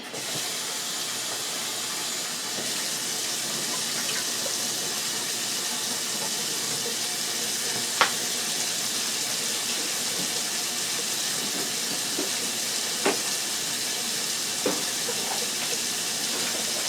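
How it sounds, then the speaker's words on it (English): Steady hiss of running tap water rinsing garlic at a kitchen sink while making sofrito, continuous and fairly close, with a few faint clinks over the flow. "My garlic, let me rinse it."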